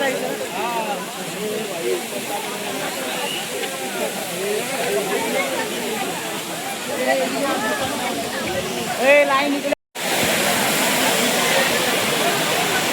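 A waterfall near Karla caves by Lonavala pours in a steady, broadband rush. Voices carry over it throughout, and the sound cuts out for a moment near the end before resuming.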